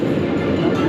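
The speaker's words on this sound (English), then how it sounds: "we are going up the lift hill" Mako roller coaster train at SeaWorld Orlando climbing its 200-foot lift hill, a loud continuous mechanical rumble with a faint rattling clatter, heard from on board.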